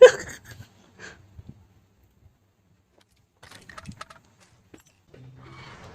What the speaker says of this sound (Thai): นี่ไงเสียงเท้า ชัดเจน